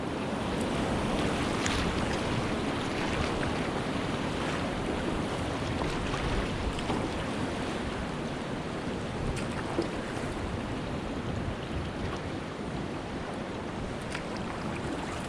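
Rushing water of beginner whitewater rapids under a canoe on a wilderness river, a loud continuous roar with wind buffeting the microphone and no talking.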